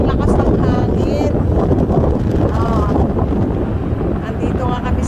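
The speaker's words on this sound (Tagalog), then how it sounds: "Ayan, tingnan nyo, ang lakas ng hangin." Strong wind buffeting the microphone beside a water reservoir in Macau, a loud continuous low roar filling the clip, with a person talking over it throughout.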